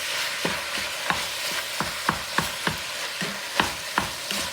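Ground meat searing in a pot for bolognese sauce while a utensil breaks it up, a continuous sizzle punctuated by regular close scraping strokes about twice a second.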